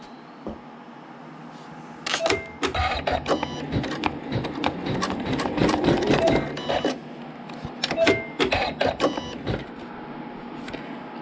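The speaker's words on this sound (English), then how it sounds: "it's going to stitch a flower right in the corner" An embroidery machine stitches a flower into the corner of a quilt block, a busy rhythmic mechanical clatter of needle strikes that starts after about two seconds of quiet hum and carries on steadily up close.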